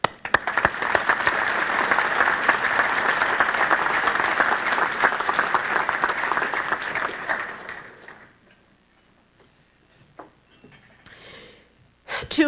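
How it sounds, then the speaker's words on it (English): Audience applause at a club meeting honouring a departing treasurer, a steady dense burst of clapping that fades out after about eight seconds, followed by a few faint scattered sounds. "We can applaud now."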